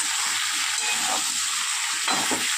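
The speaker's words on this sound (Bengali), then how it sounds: "এবার খুব ভালো করে সবজিগুলো ভেজে নেব।" Ridge gourd and other vegetables fry in a pan with a loud, constant sizzle, close up, with occasional stirring scrapes and no voices.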